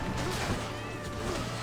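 Cat meow from a chariot in the video game Hades, a short mewing cry inside dense, loud game music and effects.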